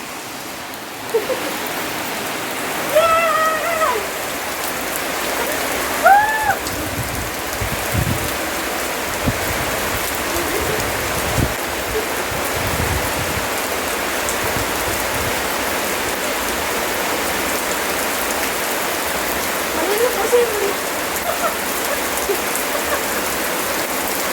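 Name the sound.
heavy rain falling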